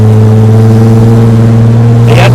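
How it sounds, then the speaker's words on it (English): A 1959 Austin Healey 3000 runs close and very loud through a lightly silenced exhaust, a deep steady drone that lifts into a rev in the last moments. "I'm guessing there can't be too much silencing on that exhaust."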